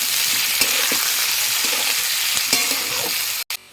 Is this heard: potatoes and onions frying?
yes